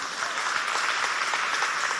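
An audience at a school competition between two lycées applauds a jury member, a steady, even wash of many hands clapping without pause.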